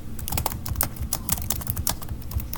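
Rapid, uneven clatter of keys on a computer keyboard, close and clear, a burst of quick typing with no voices.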